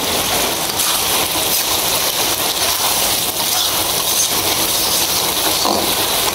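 Heavy rain pours down in a steady, loud, unbroken wash of noise with no letup and no voices.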